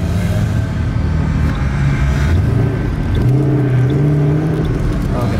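Car interior while driving, a loud low engine rumble and road noise throughout with a brief rise in engine pitch, close and continuous.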